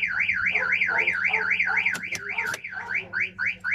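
A 2020 Dacia Dokker's CAN-bus car alarm siren wails in a rapid rising-and-falling warble, loud and close, with a couple of sharp clicks partway through.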